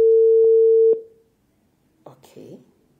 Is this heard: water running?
no